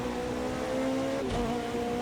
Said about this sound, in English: Sounds like this one actually has a V6 in it,